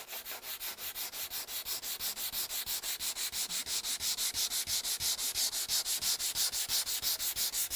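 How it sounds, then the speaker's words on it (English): Cherry wood filler on a table being feather sanded by hand with 180 grit paper, a steady rhythmic back-and-forth rasping of even strokes, close and fairly quiet with no voices. "what I'm doing here is I'm feather sanding."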